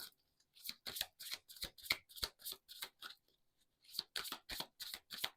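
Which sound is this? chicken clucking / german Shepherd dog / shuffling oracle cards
shuffling oracle cards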